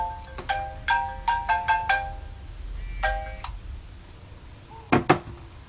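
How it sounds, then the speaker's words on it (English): A mobile phone ringtone plays in bursts of bright, repeating melodic beeps, several quick notes in short runs with pauses between, fairly close and clear over a quiet room, with no speech. "Sorry, my phone was ringing."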